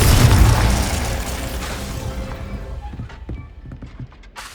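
A Confringo spell explosion in the video game Hogwarts Legacy bursts with a loud, booming blast at the start. Its rumble then fades out over a few seconds, leaving scattered faint knocks and pops.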